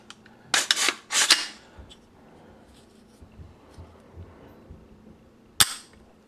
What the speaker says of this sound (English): Now let's dry fire this.